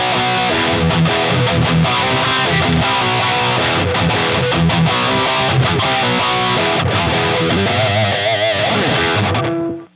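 A loud, heavily distorted electric guitar through a Soldano SLO-30 amp with a tube screamer engaged chugs through a riff, playing alone, then cuts off abruptly at the end.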